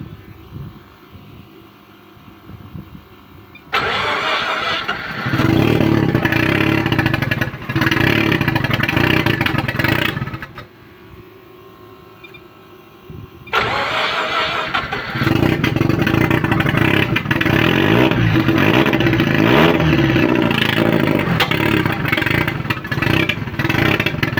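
An engine that was recently given fuel pump work and will not idle revs roughly in short bursts, loud and close, with a clattering note and brief quieter gaps between the revs.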